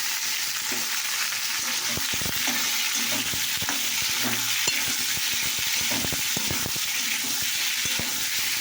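Potatoes frying in a pan during an early-morning home cooking session, a continuous even sizzle with scattered spatula taps and scrapes throughout, no one speaking.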